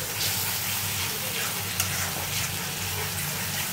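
Onions frying in oil with salt added for a rohu fish kalia, a dense continuous sizzle close up with faint stirring movements and a single small clink, no talk.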